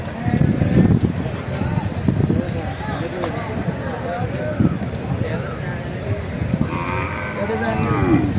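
Bulls moo repeatedly amid a busy outdoor crowd at the Kuzhalmandam cattle market in Kerala, low bellows rising over constant chatter and background noise.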